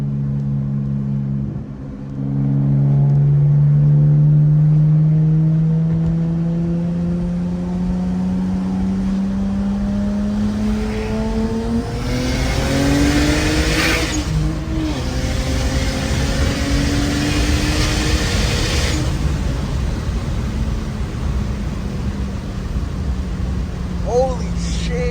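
A single-turbo BMW N54 car pulls hard under acceleration, its engine note climbing steadily in pitch through rising gears, loud and close from inside the cabin, with a turbo whoosh and no talk over it.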